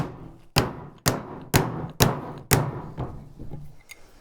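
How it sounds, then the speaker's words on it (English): A mallet strikes a chisel to clean out a mortise in wood, five sharp evenly spaced knocks about half a second apart, followed by a few fainter taps, close and alone. "So chisel, take our mallet."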